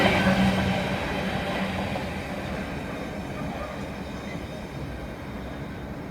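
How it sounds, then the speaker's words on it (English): Freight train wagons roll past at Reading West station, a steady loud rumble of wheels and rail noise that eases slightly toward the end, with no pauses. "And there goes the last wagon."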